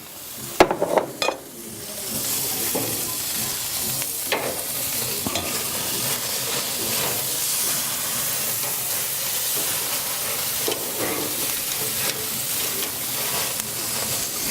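Vegetables hit a hot American Muscle gas grill with a few clanks, then a steady loud sizzle and hiss continues with occasional scraping and tapping, with no talk.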